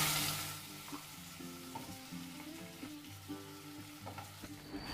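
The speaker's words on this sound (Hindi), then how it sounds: "पनीर हमारे अच्छे से फ्राई हो चुके हैं" Paneer cubes frying in a pan for paneer butter masala, a steady loud sizzle with crackling pops and occasional stirring scrapes throughout, no voices.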